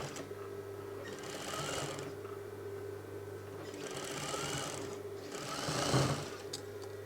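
Sewing machine stitching a velvet shrug jacket with a loose basting seam, its steady whirring motor running in three close bursts separated by brief pauses, no talking.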